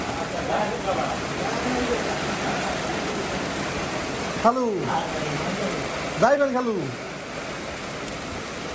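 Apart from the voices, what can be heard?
rain falling outdoors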